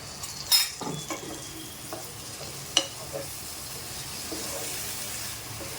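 A sharp sizzling burst near the start as water hits a hot pan of ivy gourd with garlic, followed by scattered clinks and stirring over a faint frying hiss.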